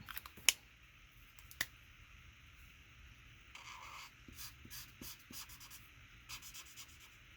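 Scissors fussy-cut a paper figure, producing scattered soft snips and papery rustling that grow busier toward the end, all quiet and close.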